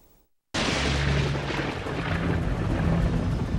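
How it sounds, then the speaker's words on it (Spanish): Lightning strikes the dome of St. Peter's Basilica in the Vatican, and the thunder crashes in suddenly after a brief silence, then rolls on loud and sustained with a deep rumble. "Un rayo cayó sobre la cúpula de la Basílica de San Pedro en el Vaticano, produciendo un gran estruendo"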